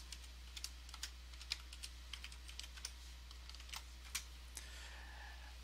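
A password being typed on a computer keyboard: a run of close, light, irregular key clicks over a constant low electrical hum, ending with a faint softer rustle.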